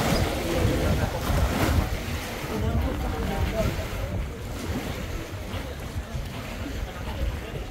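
Waves wash steadily onto the shore of Lake Victoria at Bingo Beach near Kisumu, Kenya, a continuous surf rush with wind buffeting the microphone and a voice speaking over it.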